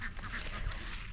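Ducks in a newly built pen give a brief, faint burst of quacking lasting about a second, heard from a slight distance.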